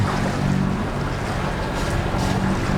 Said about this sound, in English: we've only got 1 engine going